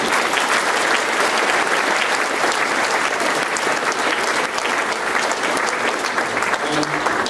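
Sustained audience applause at a charity awards ceremony, dense and loud from start to finish, with crowd noise mixed in.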